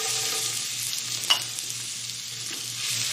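Chopped garlic frying in a pan for garlic fried rice gives a steady, close hiss, with a single sharp clack of the spoon partway through and a faint regular low hum beneath.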